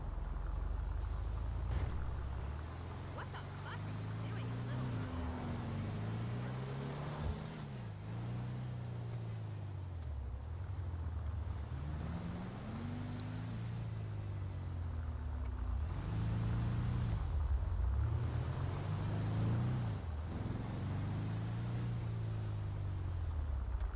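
A Caracara 4x4 off-road truck in GTA 5 drives at low speed, its engine droning steadily and rising and falling in repeated swells of revs, with no talking.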